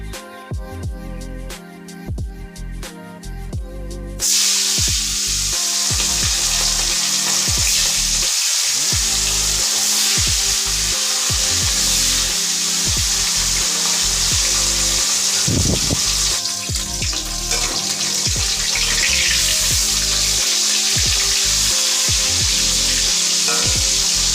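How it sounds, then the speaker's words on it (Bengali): Fish frying in hot mustard oil in a wok gives a loud, steady sizzle that bursts in after a few seconds of quieter clinks and scraping, then crackles on continuously. "মাছ ভাজা হয়ে গেছে"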